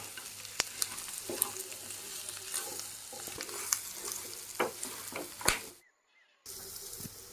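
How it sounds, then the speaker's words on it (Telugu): Chicken and onion pieces fry in a pan for a Telugu chicken fry, with a continuous near sizzle and repeated stirring clicks and scrapes, a brief silent gap near the end, and no speech. "ఇప్పుడు ఈ చికెను అలాగే ఉల్లిపాయ ముక్క కూడా ఒక మంచి గోల్డెన్ కలర్ వచ్చే వరకు మనం ఫ్రై"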